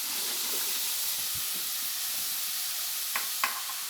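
Onions and carrots frying in hot oil give a steady, close sizzling hiss with a few brief stirring knocks near the end.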